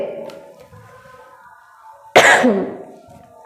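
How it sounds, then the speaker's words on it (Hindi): A single loud, sharp cough bursts out after a stretch of quiet low murmuring, close to the microphone. "यहाँ मुझे थोड़ी खांसी हो गई थी"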